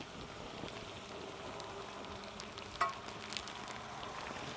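Vegetables sauté in a frying pan for fajitas, giving a quiet, even sizzle with a single sharper clink or pop near the middle, and no talking.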